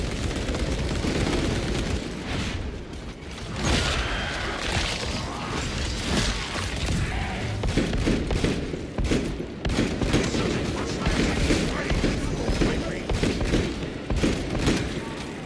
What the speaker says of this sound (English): Oh yeah, heavy bolt pistol.